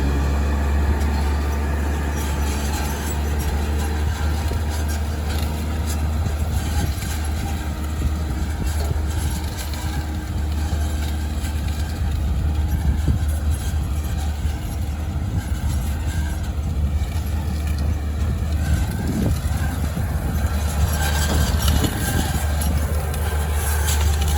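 A tractor sowing phacelia in a field drones steadily and loudly throughout, with a deep low rumble and rattling mechanical noise.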